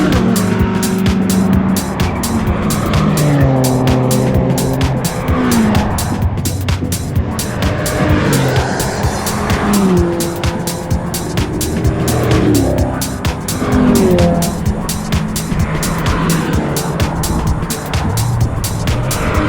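Cars race around the Brands Hatch GP circuit, engines revving hard through repeated gear changes and tyres squealing, with a continuous loud close roar that rises and falls as they pass.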